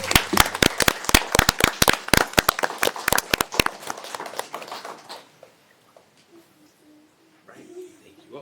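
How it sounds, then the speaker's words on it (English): Audience applause at a mayor and council meeting: sharp, crackling claps from a modest crowd for about five seconds, then tapering off into quiet room noise with faint voices. "Let's give them a big round of applause."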